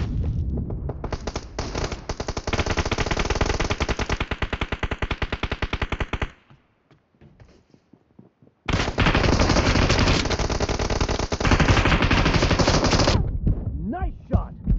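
Rapid automatic gunfire from PUBG Mobile team deathmatch crackles in two long, dense bursts separated by a short lull. Faint voices can be heard underneath.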